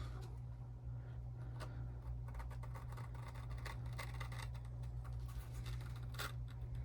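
Scissors cut white and black fabric along a traced line for a sewing pattern, giving a run of scratchy, crisp snips and rasps over a steady low hum.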